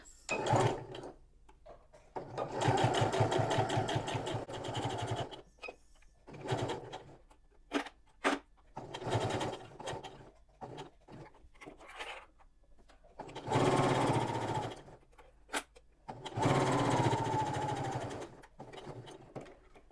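A sewing machine runs a quarter-inch seam around fabric for DIY Christmas decor, whirring in several close bursts of stitching separated by short pauses, with no talking over it.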